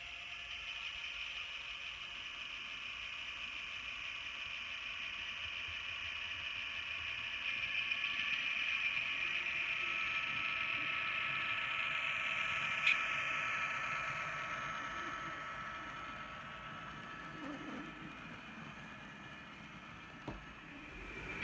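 A steady mechanical whir and hum of an N scale Atlas 0-8-0 model locomotive runs throughout, with a faint rhythmic clicking of small wheels on track, fairly constant in level with no voices.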